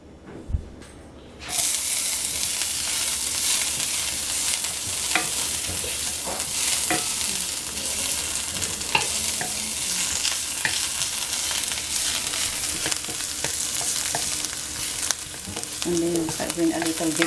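Garlic sautés in a hot pan with a steady, loud sizzle, joined by occasional scraping and stirring clicks; it begins after a brief quiet start and keeps going without talk.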